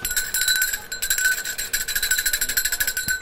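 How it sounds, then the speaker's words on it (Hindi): Rapid metallic bell ringing, clanging repeatedly in a fast steady rhythm, loud and close. "घंटी खड़क दिए"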